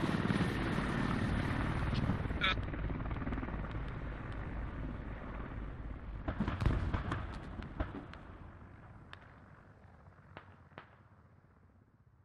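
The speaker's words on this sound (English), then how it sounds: "There's the helicopter." Helicopter in the military shooter game Squad: a steady, loud rotor-and-engine roar fills the first half and slowly fades, with sharp bangs and cracks of gunfire and explosions breaking through toward the end.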